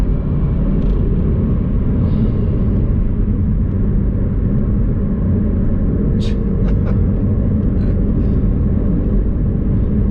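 McLaren 720S, a 2019 supercar with over 700 horsepower, heard from inside the cabin as a steady, dense engine and road rumble under light throttle, continuous and fairly loud.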